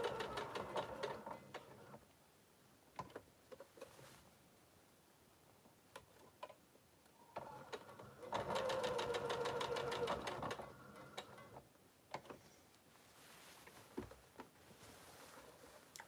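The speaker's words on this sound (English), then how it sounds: "Start with my needle down, starting with a locking stitch at the very beginning, and then 1/4 inch all the way through." A sewing machine stitches a bag handle, starting with the needle down and a locking stitch, in short quiet bursts and pauses, then one longer, louder run of rapid stitching.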